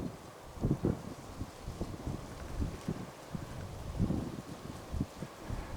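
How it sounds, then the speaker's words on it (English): Wind gusting outdoors on a fairly clear day, with blustery rumbling buffets striking the microphone and a steady rushing background running throughout. "There's some wind here today."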